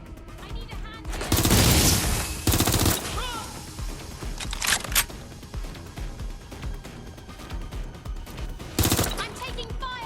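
Gunfire in Watch Dogs: Legion, with loud bursts of automatic fire and scattered shots over a tense game backdrop while voices speak in between.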